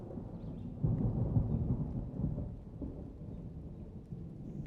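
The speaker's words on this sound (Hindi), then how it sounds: "जोरदार बारिश हुई।" Heavy rain pours steadily with low rumbling thunder rolling underneath, a broad dense wash of sound with no voices.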